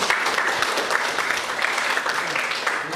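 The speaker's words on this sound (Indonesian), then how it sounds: "Beri aplaus dulu untuk kedua orang yang" A classroom audience gives a round of applause for two participants: steady, fairly close clapping from many hands, sustained evenly without breaks.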